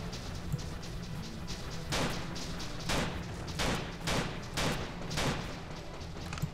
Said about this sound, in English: the sniper rifle is very useful here